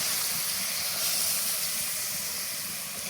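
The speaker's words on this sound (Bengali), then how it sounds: "দুধ দিয়ে দিই।" Milk hits a hot pan of fried rice for ilish pulao and sizzles in a loud, steady hiss that fills the whole short stretch with no one speaking.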